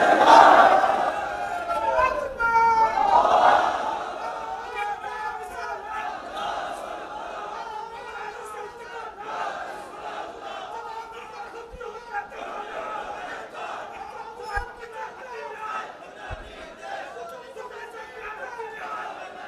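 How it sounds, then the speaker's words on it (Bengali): A large crowd at a religious political rally in Bangladesh shouts together in loud massed voices, swelling at the start and then settling into murmuring chatter. "নারায়ে তাকবীর বলে হাত জাগান, নারায়ে তাকবীর"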